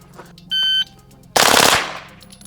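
A 9mm submachine gun fires one short, loud, dense burst of about six rounds outdoors at a shooting range, preceded by a brief electronic beep tone, with the echo decaying afterward.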